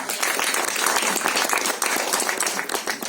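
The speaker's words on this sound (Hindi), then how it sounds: "तो फिर से जोरदार तालियां" A crowd at a film trailer launch event breaks into loud applause, dense rapid clapping from many hands sustained evenly throughout without a pause.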